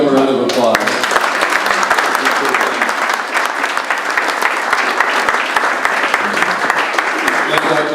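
A crowd claps steadily at a building grand opening for the Bricker Price Block, sustained applause filling the room at close range after a brief spoken moment at the start.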